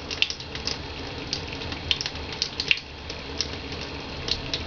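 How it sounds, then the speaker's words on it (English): Water runs steadily in the background, a continuous hissing wash with faint clinks and drips scattered through it, moderately loud and without any talk. "I hope this water in the background is not bothering you if you can hear it."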